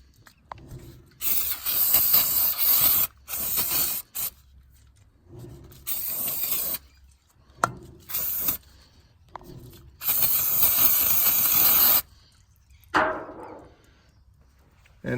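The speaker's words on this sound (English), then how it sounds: "give the disc a bit of a spray with the same brake cleaner" Brake cleaner sprayed onto a trailer brake disc in repeated bursts of loud hissing, each spray lasting one to two seconds with short silent gaps between, one longer blast near the end.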